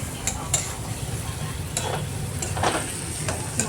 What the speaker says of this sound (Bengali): আলু দিয়ে এখন আলুর সাথে মশলাটা মিশিয়ে নেব।